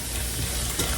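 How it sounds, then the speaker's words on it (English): Steady, loud sizzling of stir-fry vegetables frying in a hot skillet as their moisture evaporates, a dense crackling hiss with a faint stirring scrape. "as the water and moisture that's in your skillet starts to evaporate, that sizzle will come right back up"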